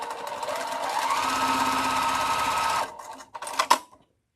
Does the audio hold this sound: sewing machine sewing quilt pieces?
yes